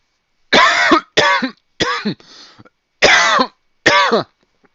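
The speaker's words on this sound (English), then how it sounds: "Oh my god, I am coughing." Five harsh, close coughs in separate bursts with short pauses between them, plus a brief raspy breath in the middle.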